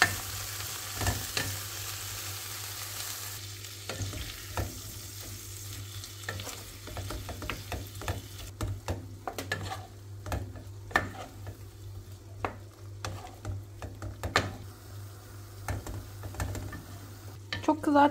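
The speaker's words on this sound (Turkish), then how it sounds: "Üzerine 125 gram tereyağı, bir miktar tuz ilave edip et pembeleşene kadar kavuruyoruz." Meat frying in butter with salt in a pan, a quiet steady sizzle broken by frequent scraping stirs and clinks of a utensil, with low hum underneath.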